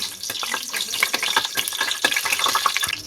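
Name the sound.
whole spices sautéing: cinnamon, stone flower, star anise, mace, cardamom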